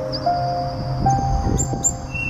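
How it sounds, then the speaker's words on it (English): A sparrow chirps in short, thin tweets scattered over a faint steady background, several quick calls near the end. "S for sparrow."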